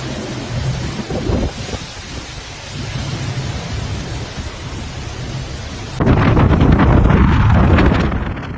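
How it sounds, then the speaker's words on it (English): Heavy typhoon rain pounds down in Xiamen, China, a dense roaring wash with low thunder rumbles underneath that swell louder and closer in the second half. "Then came the rain, merciless, pounding."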